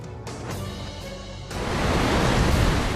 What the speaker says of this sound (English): Waves as high as 7 meters pounded homes and businesses on Chile's coastline.